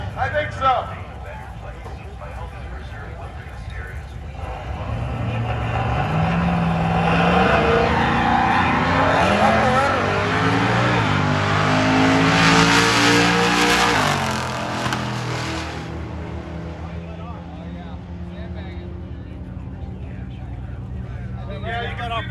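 A Chevrolet Suburban at a grassroots drag race, the Duct Tape Drags, engine revving up and roaring down the strip in a loud rising then fading sweep, with commentators talking over it.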